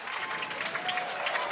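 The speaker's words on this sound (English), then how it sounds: "Well, it's got a clap." A crowd at a Commonwealth Games lawn bowls triples semi-final between Scotland and Norfolk Island gives a short burst of steady applause, moderately distant, with faint voices mixed in.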